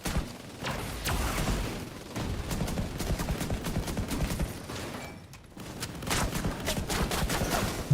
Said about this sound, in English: See the old plasma bullets fire.